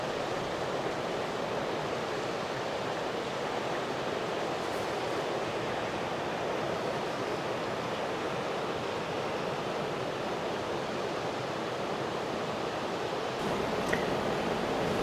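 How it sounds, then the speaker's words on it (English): Water flows steadily outdoors as an unbroken, even rushing hiss, constant in loudness throughout, with no voices and only a faint brief disturbance near the end. "I'm also going to be quiet here and let you listen to the water."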